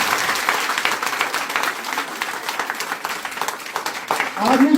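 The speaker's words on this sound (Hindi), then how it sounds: "चलिए इनके लिए एक जबरदस्त तालियां उनके लिए।" An audience claps loudly and steadily at a live Hindi talk event, a dense crackle that swells and dips for several seconds, while people speak over it toward the end.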